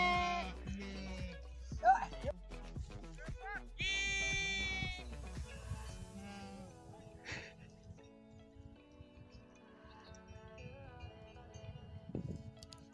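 Goats bleat repeatedly on a high Himalayan mountainside near dense forest, several loud wavering cries in the first half, while people talk nearby.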